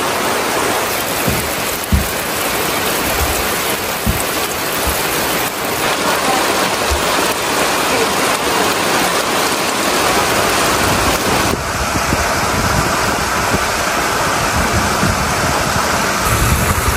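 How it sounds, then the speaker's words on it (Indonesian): Steady rain falls at a villa in Cianjur, a dense continuous hiss with a few sharper drips and knocks, loud and close with no talk. "Hujan."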